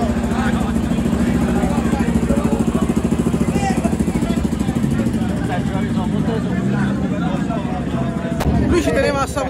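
Motorcycle engines rumble and idle nearby at a car and motorcycle club meet while several people chat over them; near the end a sharp clatter breaks through.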